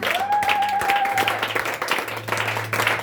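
Church congregation applauding during a service, dense continuous clapping filling the room with a sustained tone and a hum underneath, loud throughout.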